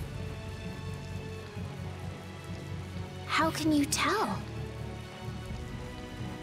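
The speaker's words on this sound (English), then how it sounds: "And it's raining." Steady rain in the video game Tales of Vesperia patters throughout as a constant hiss, with a short spoken line breaking in midway.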